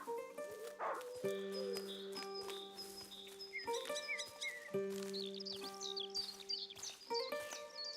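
A dog barks in the video game A Plague Tale: Innocence, with several short yips and barks spread over a sustained, tonal musical score that plays throughout.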